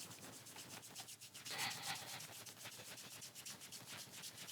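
Two hands rubbing together with fingers interlaced, palms sliding over the backs of the hands, a steady dry brushing swish that swells briefly in the middle, close and alone with no talk.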